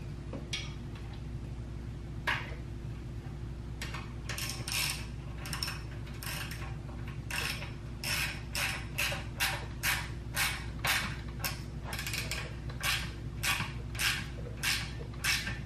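Metal hose clamp on a 2021 KTM Duke 390 Pro Race exhaust slip-on being tightened with a tool, giving a long run of close, rhythmic ratcheting clicks over a steady low hum.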